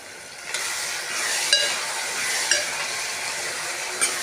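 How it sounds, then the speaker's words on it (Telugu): Chili powder frying in hot oil, a steady broadband sizzle throughout with a few soft clicks of a spoon stirring, fairly close and moderately loud, no voices. "ఇలా నూనెలోనే ఫ్రై చేసుకోవాలి."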